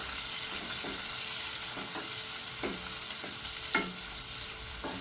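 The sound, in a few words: chopped onions frying in a pan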